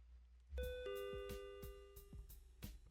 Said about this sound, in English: The store's door chimes the mundane tune it sings for each and every soul.